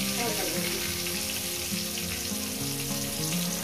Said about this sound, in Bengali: আলুগুলো আমি সাধারণত সুন্দর করে লাল লাল করে ভেজে নেব